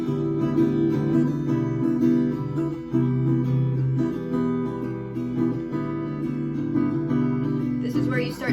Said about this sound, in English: it's just a basic strumming pattern, just down, down, up, down, up